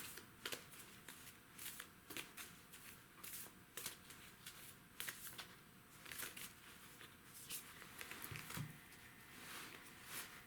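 Oracle cards from a Moonology deck are shuffled repeatedly, quick papery riffles and soft slaps in bursts, close and quiet with no talking.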